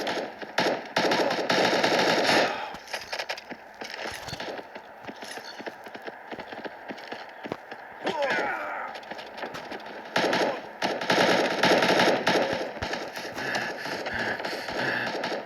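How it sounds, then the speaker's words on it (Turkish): Video game gunfire set to burst or rapid-fire mode, with dense rattling volleys loud at the start, thinning into scattered shots mid-clip, then surging again near the end. "Ben seri atışa aldım mermiyi böyle."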